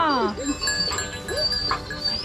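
Goats on a farm giving a few short bleats, close by and fairly loud, with a quieter animal call further back.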